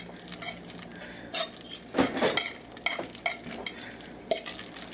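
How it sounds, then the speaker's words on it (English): A fork stirs hamburger mac and cheese in a pan, giving irregular close scraping and clinking strokes against the metal over a faint sizzle, with no talk. "And there's a fork. And you're gonna want to stir that in."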